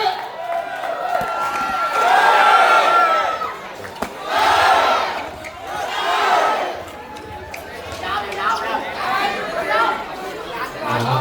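Crowd at a Muay Thai boxing match cheering in rising and falling waves of shouting and chatter, loud and close, with a commentator talking over it.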